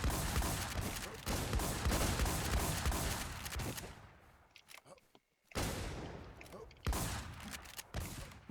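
Rapid gunfire crackles in the video game Fantasy New World, dense bursts of shots that thin out and nearly fall silent midway before flaring up again in sharp volleys.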